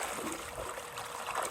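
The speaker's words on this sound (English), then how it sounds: "this is my pool, pushing out water, clear water that is" Clear water gushes steadily out of a Waterway pool filter with a continuous, full splashing rush and no pauses.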